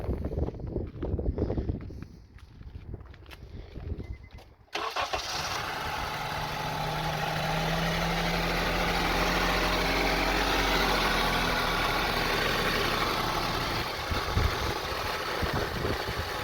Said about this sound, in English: You can listen and hear the sound of the engine.